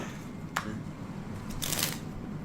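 Playing cards are shuffled for a card trick, a quiet riffle with a sharp flick near the start and a brief, brighter burst of cards near the end, with no talking.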